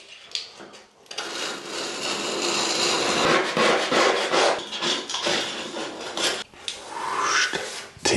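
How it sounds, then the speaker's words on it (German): A blade scrapes and cuts old silicone sealant out of the edges of bathroom tiles, giving a close, steady rasping rub with short gaps and uneven strokes, no voices. "Ich schneide im Prinzip bis links und rechts einmal ein. Nimm das alte Silikon raus"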